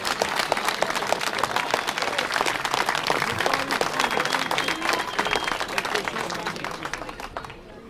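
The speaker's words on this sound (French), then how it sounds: "je vais vous demander à tous de les applaudir très très fort" Steady applause from a crowd at a car rally podium ceremony, dense clapping that holds strong for several seconds before slowly fading toward the end.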